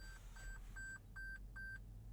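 Inside a 2021 Toyota Land Cruiser, a thin electronic chime sounds five times at an even pace as the center differential lock engages, faint against a low cabin hum.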